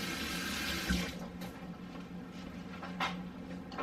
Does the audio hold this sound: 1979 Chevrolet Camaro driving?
no